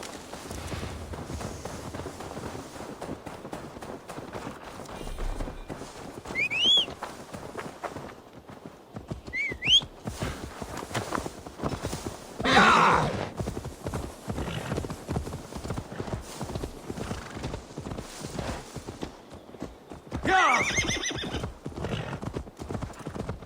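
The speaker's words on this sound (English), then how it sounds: "Now to deliver Magni his horse." In Assassin's Creed Valhalla, a horse clip-clops along at a steady walking rhythm, hooves close and continuous, with a few whinnies and snorts breaking through.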